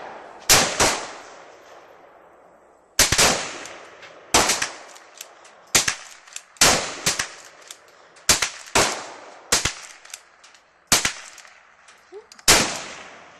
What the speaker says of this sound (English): Alright, that's Trevor with the Henry. 22 lever action rifle.